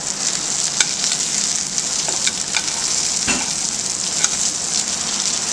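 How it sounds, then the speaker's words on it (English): Butter sizzles loudly and continuously in a tilted pan as it is spooned over pan-seared snapper and salmon fillets with green herbs, with scattered spoon clicks and crackles, close and without talk. "So you're tilting the pan up away from the heat and basting the fish with the butter."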